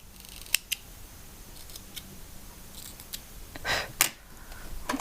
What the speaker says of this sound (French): je la plie en deux et je coupe avec mon coupe-fil